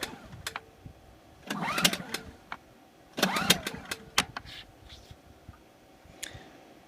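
A Generac iX2000 portable generator is pulled for a first start, giving two bursts of recoil rattle and sputter, each a second or more long, plus scattered clicks and knocks. The engine never settles into a steady run.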